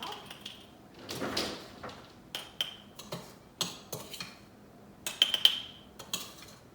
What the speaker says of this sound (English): And then I'm just gonna scoop in my lavender on top